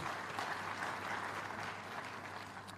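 Steady audience applause at a university convocation prize presentation, a dense, even roar of many hands clapping throughout the short stretch.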